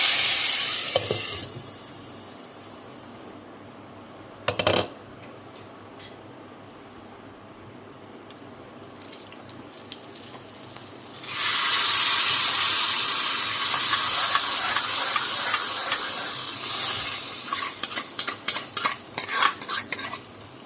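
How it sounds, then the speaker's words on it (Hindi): Tadka of garlic, Kashmiri red chili and hing hitting hot desi ghee: a quiet start with a few metal clinks, then a loud, sustained hiss and sizzle that builds midway and fades with scattered crackles near the end. "लहसुन गोल्डन ब्राउन हो गया है तो मैंने लगा दिया है छौंका"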